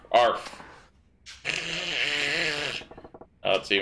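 A voice imitates a dog, giving a few rough, growling barks and woofs close to the microphone with short pauses between them.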